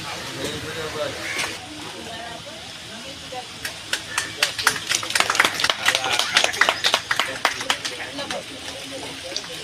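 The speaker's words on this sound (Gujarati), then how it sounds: "ખૂબ ખૂબ તાળીઓના ગળાથી આપણે એમનું સ્વાગત કરીશું" A crowd at the opening of a new cooperative savings society branch begins clapping, starting as scattered claps and building into a denser round over a few seconds, with voices talking underneath.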